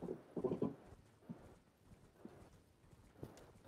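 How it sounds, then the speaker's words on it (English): Horse hooves clip-clopping in the video game Elden Ring, a quick cluster of loud thuds at the start followed by sparser, softer steps at an irregular pace, heard alone without talk. "her little donkey horse"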